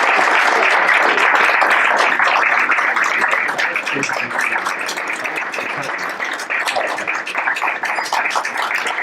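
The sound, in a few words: audience applause for the performer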